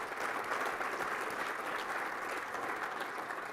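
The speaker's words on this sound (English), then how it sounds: "Let's give them a round of applause" Applause from the audience for the judges at the Digital Engineering Awards, a steady, dense wash of clapping held at an even level throughout.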